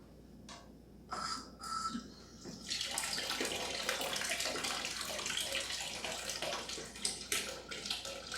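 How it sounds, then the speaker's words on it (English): Water gushes steadily and continuously as a siphon drains a Fluval Flex 32-gallon aquarium, a close, rushing flow that starts after a few brief splashes and keeps going. "now it's time to siphon again to remove more water"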